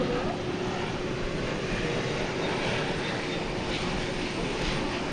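An American Airlines Airbus A321 jet at DFW Airport at night gives off a steady, broad engine rumble, moderately loud and unbroken throughout.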